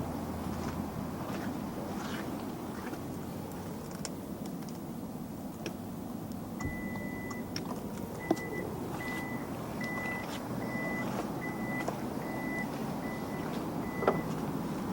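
A car's power tailgate closes: a steady series of evenly spaced electronic warning beeps over a low mechanical hum, ending with a soft thud as the hatch shuts.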